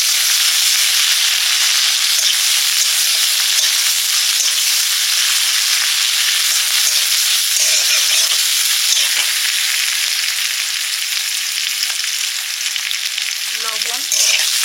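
Chopped onion frying in oil for a fish curry makes a loud, continuous close-up sizzle. Occasional stirring scrapes can be heard near the end, and there is no talking.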